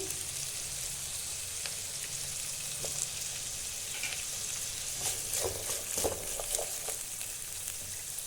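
Beans, raisins and ginger frying together in a pan for vegetable rice, a steady close sizzle that turns busier and crackly toward the end as the pieces are stirred, with no talk.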